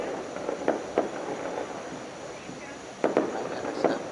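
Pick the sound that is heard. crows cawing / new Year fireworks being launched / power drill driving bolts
new Year fireworks being launched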